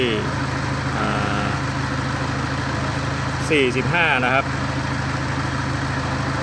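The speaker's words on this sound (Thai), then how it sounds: "ตอนนี้รอบเครื่องเดินเบานะครับ" A Toyota Vigo pickup engine idles steadily during air conditioning refrigerant charging, a constant low rumble that runs throughout while someone speaks nearby.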